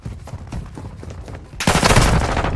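In Modern Warfare 2 on the Strike map, during a Hardpoint match with a Tempus Razorback in play, a loud, dense wash of gunfire suddenly swells and keeps going after a quieter, muffled stretch of crackling shots.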